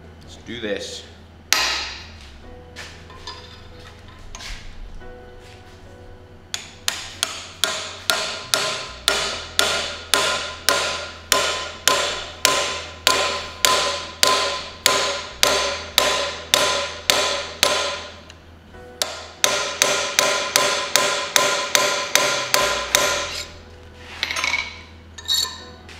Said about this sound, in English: I need to hammer it off there and then take a look at it